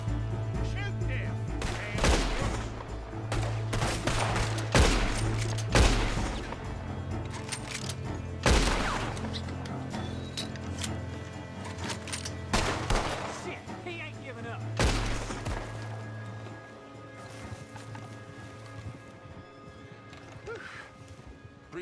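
Gunfire in Red Dead Redemption 2, a string of loud separate shots at irregular intervals over a low rumbling background, with horse sounds and voices in between.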